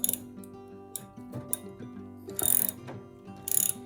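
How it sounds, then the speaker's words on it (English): A fastener on an exercise bike gear motor gets tightened, heard as close mechanical ratchet clicks in short bursts with a few sharper scraping rasps, over a steady tonal hum, with no talking. "So this gets tightened as tight as you can get it."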